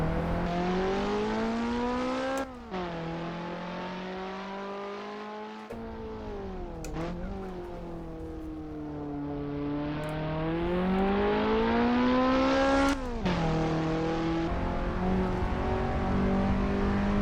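A simulated Toyota Sera TRD with a 1.6-liter engine climbs Pikes Peak in the Assetto Corsa racing game. The engine drones and strains, its pitch sweeping up through each gear and dropping sharply at several shifts, with no talking over it.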